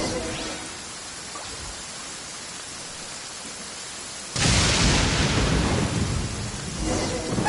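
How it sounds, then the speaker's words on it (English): Thunderstorm in the video game Genshin Impact, a steady hiss of rain that suddenly swells into a loud, rumbling crash of thunder and heavy downpour partway through. "Uh-oh! Lightning storm!"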